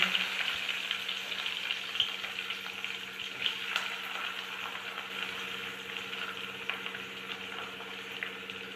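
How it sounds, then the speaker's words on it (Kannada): Washed onions sizzle as they fry in oil, a soft steady crackle with occasional small pops, close but fairly quiet. "ನಾವು ಇದರಲ್ಲಿ ವಾಶ್ ಮಾಡಿ ಇಟ್ಕೊಂಡಿರುವಂತಹ ಈರುಳ್ಳಿನ ಹಾಕೋಣ"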